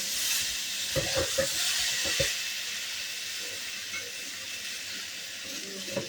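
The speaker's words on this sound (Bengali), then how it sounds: "আগে থেকে সেদ্ধ করে রাখা ওলের ডাঁটা আর কাঁঠাল বীজটা আমি এর মধ্যে দিয়ে দিলাম, দিয়ে খুব ভালো করে এর সাথে কষিয়ে নিতে হবে" Boiled ol stems and jackfruit seeds are stir-fried in a hot pan, a soft continuous sizzle with a few scraping knocks of a spatula early on, then settling into a quieter steady hiss, no voices.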